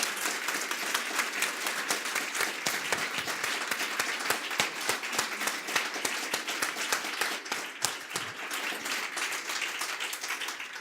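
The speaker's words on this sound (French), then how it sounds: "je pense qu'on peut les applaudir tous les trois." An audience at a conference on burnout breaks into sustained applause, dense, steady and fairly close, with no voices over it.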